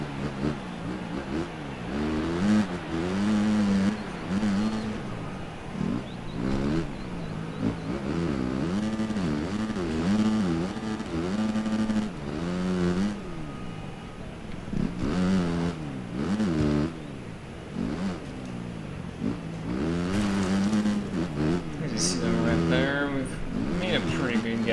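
Motocross motorcycle engine from the racing game MXGP PRO, revving and shifting continuously through a full lap, with the pitch rising and falling through gear changes under steady commentary talk.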